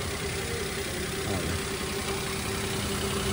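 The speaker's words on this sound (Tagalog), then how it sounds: "umandar na yung ating Toyota Wigo" A Toyota Wigo car engine idles quietly and steadily just after repair, a smooth low hum with a faint constant tone and no knocking, close by and alone.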